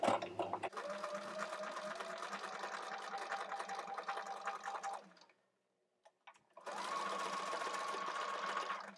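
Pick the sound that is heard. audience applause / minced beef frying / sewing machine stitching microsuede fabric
sewing machine stitching microsuede fabric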